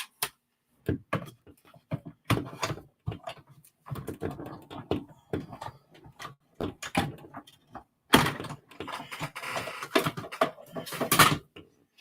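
A paper craft embossing machine cranks a folded card through, giving close, uneven bursts of clicking, rattling and grinding with short pauses, louder toward the end.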